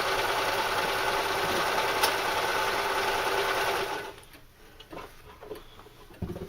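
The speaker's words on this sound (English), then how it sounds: "if you've only got a home sewing machine, and this is only a home sewing machine" A robust home sewing machine stitching material for a knife carrier runs in a fast, steady mechanical whir with rapid needle ticking for about four seconds, then stops, leaving quiet handling clicks.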